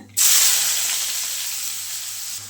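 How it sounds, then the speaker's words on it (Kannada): Mustard seeds, cumin and chopped onion hit hot oil in a pan with a sudden loud hiss that holds steady and slowly eases over a couple of seconds, close up and with no voices. "ಸಾಸಿವೆ ಹಾಕೋತಿದ್ದೀನಿ, ಜೀರಿಗೆ ಹಾಕೋತಿದ್ದೀನಿ, ಕಟ್ ಮಾಡಿ ಇಟ್ಕೊಂಡಿರೋ ಈರುಳ್ಳಿ ಹಾಕೋತಿದ್ದೀನಿ"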